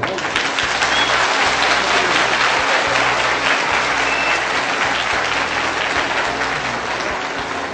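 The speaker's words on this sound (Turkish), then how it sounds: "Sayın Belediye Başkanıma büyük bir alkış istiyorum" A large audience applauds the mayor at a Turkish ceremony, a dense, steady wash of clapping that stays loud and continuous throughout, with a low rhythmic thump of music underneath.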